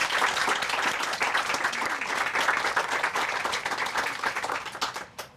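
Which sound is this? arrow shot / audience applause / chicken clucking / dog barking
audience applause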